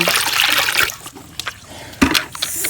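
Water is poured from a container while fufu is prepared in a Nigerian village, a loud rushing splash at first that thins into short trickles and a couple of brief splashes.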